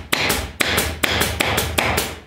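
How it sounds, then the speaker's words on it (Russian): A hammer drives a staple into the wooden frame of a soft upholstered headboard, five sharp evenly spaced taps each followed by a brief ring, close and loud with no talking. "Я немножко еще скобу поближе подобью."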